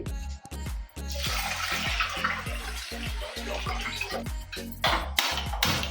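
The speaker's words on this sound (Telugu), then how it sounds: "ఇప్పుడు మంచి వాటర్ పోసుకోవాలి." Water pours steadily into a pot, splashing and gurgling, with several clanks of metal at the start and a louder splash toward the end.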